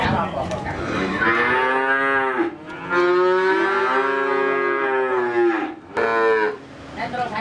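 Cattle in a calf seller's pen, where breeding stock is sold, give repeated loud, drawn-out moos close by, with two or three long calls separated by short pauses and no talking.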